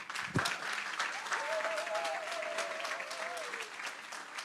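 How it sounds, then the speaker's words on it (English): Conference audience at a violence prevention event breaks into applause, a dense, fairly faint patter of many hands with a whistle-like tone running through the middle. "So I really want to applaud Ciara and our whole planning committee."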